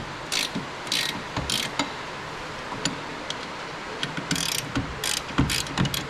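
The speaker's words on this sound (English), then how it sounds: "let me loosen up the caliper a little bit just to show you" A ratchet loosens the brake caliper bolts on a Z31 300ZX, giving bursts of quick close clicking in irregular spurts with short pauses between.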